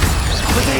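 Fire spell cast in the video game Hogwarts Legacy: a loud, continuous whooshing burst with low rumble and mechanical crackle, steady and close, with no talk.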